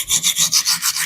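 Rapid rhythmic scraping of a knife blade across an inexpensive diamond sharpening plate as the burr is cut off, roughly eight quick close strokes with a bright rasping hiss.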